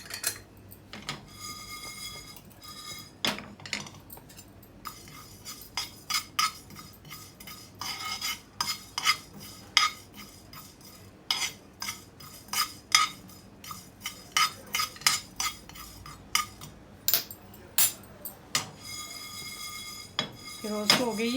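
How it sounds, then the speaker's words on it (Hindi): Fennel seeds roast in a pan with metal spoon scrapes and clinks, a steady run of short, sharp taps and clatters close by over about twenty seconds, with no talk. "अब मैं सौंफ को डाल देती हूँ और उसे रोस्ट कर लेती हूँ"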